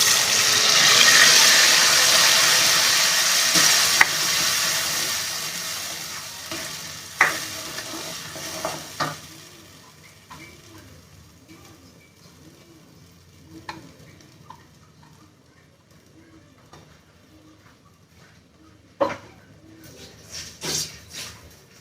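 Matar makhana stirred and roasting in a pan, a soft sizzle that fades after the first half, leaving scattered scrapes and clinks of the spoon against the pan.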